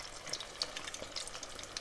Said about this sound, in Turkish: Şimdi bunları artık kızartmaya geçebilirim. Tek tek bu şekilde ekliyorum.